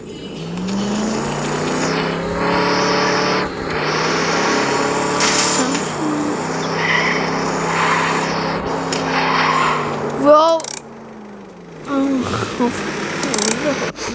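A Chevrolet car engine revs and roars with tires squealing and skidding, loud and continuous, with voices talking over it at times.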